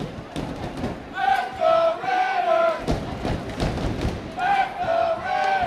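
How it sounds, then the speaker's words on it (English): A packed arena crowd at a Reno Ice Raiders hockey game chants "Let's Go Ice Raiders" in repeated rhythmic bursts, with sustained voices rising and falling over thumping claps and general arena noise. "A Let's Go Ice Raiders chant from the crowd starting early."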